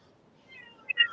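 A house cat gives a short, faint meow in the background, a brief rising call lasting under a second.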